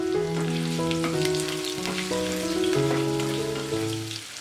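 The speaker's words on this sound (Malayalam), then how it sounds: "ഒരു മീഡിയം സവാള കനം കുറച്ച് നീളത്തിൽ അരിഞ്ഞതും, 2 പച്ചമുളക് നീളത്തിൽ കീറിയതും, ഒരു ചെറിയ കഷ്ണം ഇഞ്ചി ചോപ്പ് ചെയ്തതും കൂടെ ചേർത്ത് വീണ്ടും ഒന്ന് നന്നായിട്ട് വഴറ്റി കൊടുക്കണം" Thinly sliced onion, slit green chilies and chopped ginger sauté in a pan for a Kerala-style okra and egg theeyal, giving a steady sizzle beneath prominent melodic background music with no speech.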